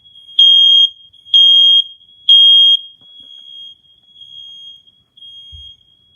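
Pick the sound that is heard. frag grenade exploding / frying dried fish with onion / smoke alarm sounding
smoke alarm sounding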